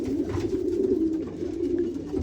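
Racing pigeons coo steadily in a loft, a low continuous throaty murmur close by with no talk.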